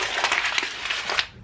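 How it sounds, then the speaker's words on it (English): Paper sheets being crunched into a ball for aging and distressing, a close, continuous crinkling and crackling lasting over a second before fading out. "So the best thing to do is just crunch in a ball"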